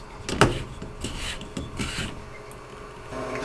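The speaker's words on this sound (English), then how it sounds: "simply go ahead and reinsert and turn this clockwise and tighten it back up." A front-load washing machine's drain filter trap is twisted clockwise back into its housing, making a sharp click and then scraping, rasping plastic rubs and turns close up, with no talking.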